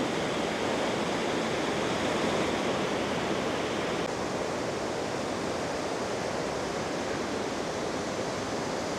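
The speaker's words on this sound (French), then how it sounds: "Merveilleuse cascade." A steady, unbroken roar of a waterfall in Norway, loud and close, with no pauses or voices.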